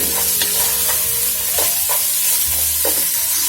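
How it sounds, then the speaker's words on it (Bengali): Meat with salt frying in a pot sizzles loudly and continuously while a spoon stirs it with repeated scraping strokes and occasional clinks against the metal, close up, with no speech. "লবণ দিয়ে দিচ্ছি এক চামচ এখন একটু নেড়ে চেড়ে একটু কালারটা চেঞ্জ হোক মাংসটা"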